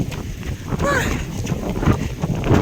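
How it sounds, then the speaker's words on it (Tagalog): Strong sandstorm wind buffeting the microphone outdoors, a steady rough roar with gusty swells throughout, while a person talks over it. "Grabe yung ang sandstorm. Ano, lakas ang sandstorm."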